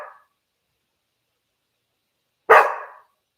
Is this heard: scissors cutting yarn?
no